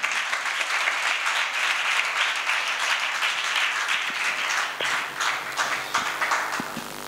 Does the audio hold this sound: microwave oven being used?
no